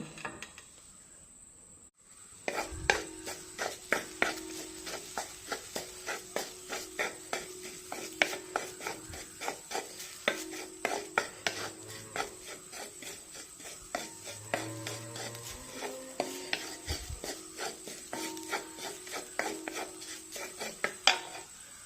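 Chutney ingredients are stirred and dry-roasted in a pan, producing a quiet, steady rhythmic scraping and rubbing that starts after a short silence and continues closely throughout.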